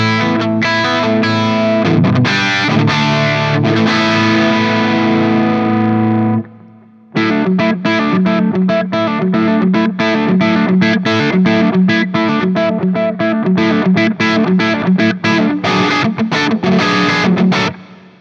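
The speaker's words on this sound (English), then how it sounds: "For the mid-gain sound I'm using my Friedman BE100 Deluxe amp." Electric guitar played through a Friedman BE100 Deluxe amp at mid-gain distortion, a loud crunchy sustained chord passage, a brief pause, then tight rhythmic palm-muted riffing, with no voices.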